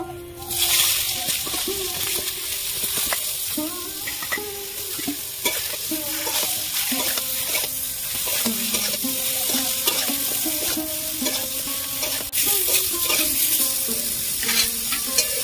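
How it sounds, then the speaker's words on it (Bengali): Eggplant pieces frying in leftover oil from frying koi fish while being stirred: a steady, close broadband sizzle with occasional scraping stir sounds, set under a tonal melodic backdrop. "মাছ ভাজার ওই তেলের মধ্যে আমি বেগুনগুলো ভেজে নেব।"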